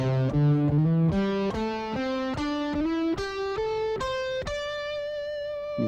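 An electric guitar plays an ascending scale of clean, single sustained notes with slides between some positions, each note distinct and steadily rising, moderately loud with no voices.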